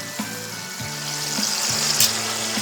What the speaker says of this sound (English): now I'm searing the other side